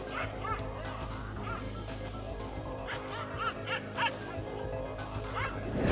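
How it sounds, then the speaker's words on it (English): A small dog barks and yips repeatedly at two wild African lions outdoors, the sharp barks standing out over a steady low rumble of background noise and growing louder toward the end. "This brave little dog barks his disagreements to not one, but two wild African lions"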